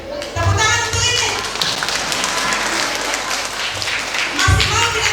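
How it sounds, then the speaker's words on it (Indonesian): Applause from a crowd at a children's church Christmas celebration, steady clapping filling the room with a few louder thumps, continuous for several seconds with faint background voices. "Tepuk tangan untuk ini."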